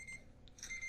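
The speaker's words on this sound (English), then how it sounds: "Turn that alarm off." A faint electronic alarm beeping in short high-pitched tones against a quiet background.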